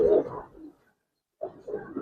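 A Giribaz colouring pigeon coos close by in two short, throaty bursts separated by about a second of silence, with no talk over it.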